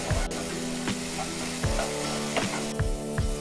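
Tomatoes sizzle steadily in a hot pan for a garlic gravy, with regular soft scraping and pressing strokes of a spoon every half second or so.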